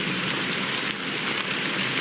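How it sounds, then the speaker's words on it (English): Steady rain falls in the Honkai: Star Rail video game, a dense, even hiss of drops pattering on surfaces throughout, with no voices. "But it's still raining."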